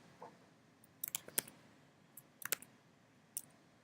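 Scattered keystrokes on a computer keyboard while writing an SQL query, coming in a few short quick clusters of clicks with quiet pauses between, faint and close.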